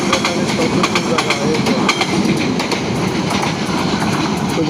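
A train runs along a railway line, its dense rumbling roar steady and loud throughout, with repeated clickety-clack wheel beats on the rails and a bright metallic rattle from the passing cars.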